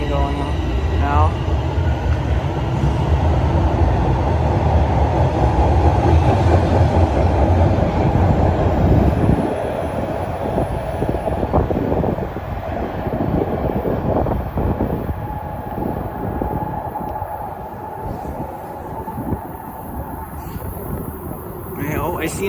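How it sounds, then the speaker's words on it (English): TTC subway train passing at Highway 407 Station, a heavy roaring rumble that drops in level partway through and gives way to a lighter, rattling rolling sound as the train moves on. "You see the other side of the train going on now."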